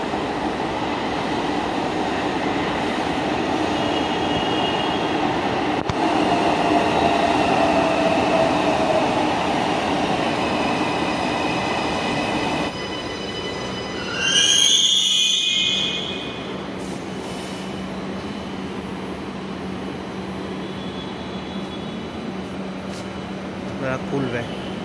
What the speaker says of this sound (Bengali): আমাদের ট্রেন অলরেডি স্টেশনে ঢুকে গেছে।